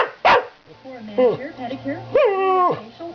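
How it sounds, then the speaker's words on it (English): A wet dog gives a sharp bark, followed by drawn-out whining yelps and howl-like cries, loud and close by. "Stop barking."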